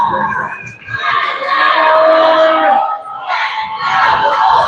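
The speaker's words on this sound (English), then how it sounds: "And the Let's Go Bulls chant goes up from the crowd." A hockey crowd at a Wooster Bulls game chants "Let's Go Bulls" in loud, rhythmic waves of massed voices, pausing briefly between rounds of the chant.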